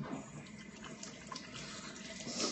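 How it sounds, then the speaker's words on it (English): Tap water runs steadily from a kitchen faucet while hands are washed, a soft, even splashing stream with no talk. "let me wash my hands real quick"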